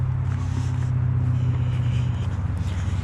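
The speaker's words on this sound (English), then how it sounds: "You can probably hear the traffic" Steady low rumble of road traffic from a nearby highway carrying on beside a rail trail, a continuous engine drone with no clear passes and no voices.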